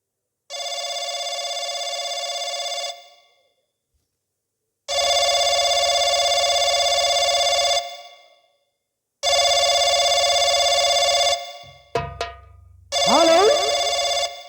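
A telephone bell rings in long, even bursts with silent gaps between them, loud and clear. A brief jumble of other sound cuts in near the end before one more ring.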